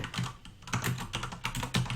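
Rapid, uneven typing on a computer keyboard during a C programming livestream, a dense run of close clicks and key thuds with no talking.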